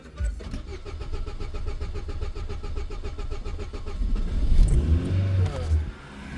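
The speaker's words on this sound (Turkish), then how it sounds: "Gaz ötürüp yakamız eken bunu." A car engine fitted with a methane gas system starts and runs on gas. It keeps a steady, rhythmic idle close by, then swells louder with some revving toward the end.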